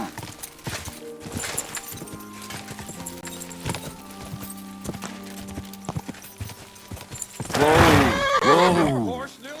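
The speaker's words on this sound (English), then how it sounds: "Horse nearly trampled me." A horse in the Kingdom Come: Deliverance 2 video game gallops past with rapid hoofbeats over background game sounds, then lets out a loud, close whinny near the end.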